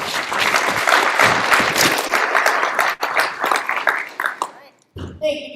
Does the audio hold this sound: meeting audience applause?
yes